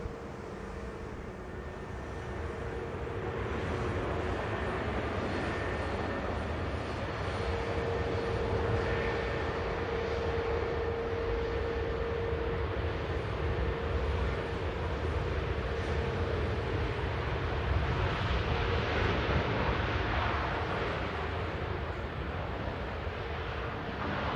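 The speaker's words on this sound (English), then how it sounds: "Great job touching down as well. In from Ibiza." A Boeing 787 airliner touches down at Manchester Airport, a broad continuous engine roar with a faint tonal whine, steady and distant, lasting throughout with wind buffeting and no talking.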